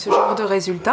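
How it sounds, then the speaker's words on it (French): A dog barks excitedly in a quick burst of short, high yips and yelps, close by, while someone talks over it. "C'est mon chien qui s'affole."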